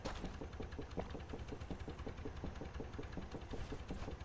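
A low, rumbling motorcycle engine in the video game Deadside idles steadily with a fast pulsing throb, faint and unchanging for a few seconds.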